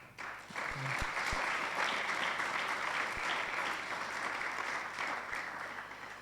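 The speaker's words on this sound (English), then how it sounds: "you deserve a hand clap because you are in the finals" An audience at a moot court competition breaks into sustained applause, a steady wash of clapping from a medium-sized crowd that holds evenly for several seconds before tapering off.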